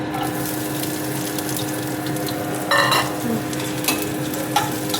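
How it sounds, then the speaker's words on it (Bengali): Ginger, garlic and chili frying in hot oil in a wok, giving a continuous close sizzle with brief bursts of spattering and stirring scrapes. "এবার এর মধ্যে আমি দিয়ে দেবো আদা, রসুন, লঙ্কা"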